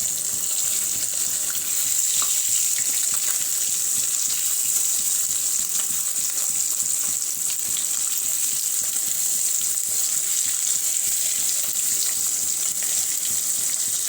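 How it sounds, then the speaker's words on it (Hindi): Fish frying in a pan over a full gas flame, a steady loud sizzle with continuous crackle that holds evenly from start to finish, close up. "दोनों साइड हमें अच्छे से इसको फ्राई कर लेना है।"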